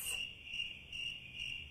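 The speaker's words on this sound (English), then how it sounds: "Crickets." Crickets chirping in a steady, pulsing trill, a sound effect of repeated high chirps in regular bursts, fairly quiet and alone with no voices.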